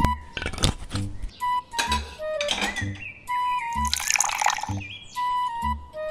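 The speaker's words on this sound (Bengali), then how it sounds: "তাহলে ডালটা বরং ফ্লাক্সে ঢেলে দিই" Cartoon dal pours into a flask as a series of bright dripping, gurgling liquid effects mixed with short whistle-like tones, alternating with brief pauses.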